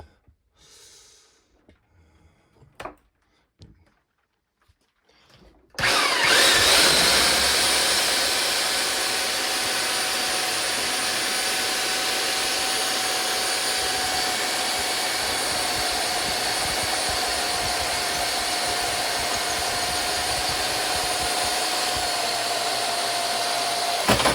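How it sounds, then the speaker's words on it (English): After a few quiet handling noises, a heavy BAUER 13-amp 1/2-inch right angle drill starts up and runs continuously with a steady high whine and buzz. "First, gonna do one drill"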